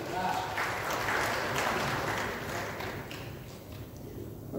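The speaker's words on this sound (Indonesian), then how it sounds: "Tepuk tangan untuk kita semua." Applause in a council plenary chamber during a budget approval session, a dense, steady wash of many hands clapping that holds fairly loud throughout, slowly easing off toward the end.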